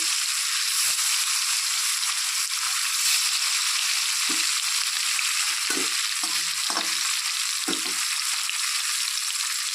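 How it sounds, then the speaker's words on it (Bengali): Pieces of kalbaush fish fry in hot oil in a pan, making a loud, steady, hissing sizzle throughout with a few soft knocks and stirring sounds, and no talking. "এখন মাছগুলো এক এক করে ছেড়ে দিচ্ছি তেলে"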